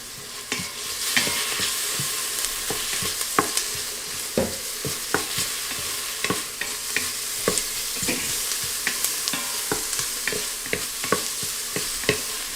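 Garlic and onions sauté in butter in an Instant Pot, a steady crackling sizzle running throughout with frequent sharp clicks and scrapes of a utensil stirring the pot, close and moderately loud, with no talking.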